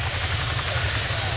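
A Royal Air Force Chinook HC.5 helicopter flies at a RIAT air display, its rotors giving a throbbing, rhythmic low beat under steady engine noise, with speech heard over it.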